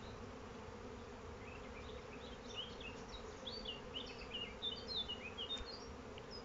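A soft, continuous buzzing hum of many black honey bees clustered on a hive frame, fairly quiet and steady throughout.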